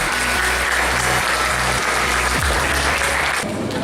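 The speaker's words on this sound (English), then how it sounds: "give a big round of applause to our prefects" Students at a whole-school assembly give a big round of applause for the prefects, a dense crowd clapping evenly throughout with a slight taper at the end.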